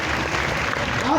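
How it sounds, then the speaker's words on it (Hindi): Audience clapping at a Shri Shyam temple jagran in Hansi, a dense continuous wash of hands filling the whole moment, with voices mixed in underneath. "अब हम तालियां बजा रहे"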